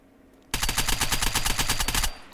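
Rapid automatic gunfire in the video game Unturned, a dense burst of closely spaced shots lasting over a second and a half, loud and close, after a brief quiet lead-in with no talking.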